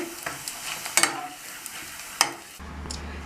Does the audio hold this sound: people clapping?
no